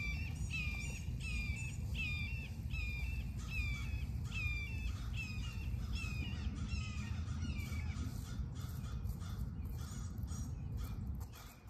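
Crows caw repeatedly in a cemetery beside a headstone being cleaned, a run of harsh, evenly spaced calls at moderate distance over a steady low background rumble, thinning out after several seconds.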